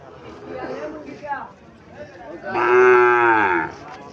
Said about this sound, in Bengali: এটা শাহিওয়াল বাছুর।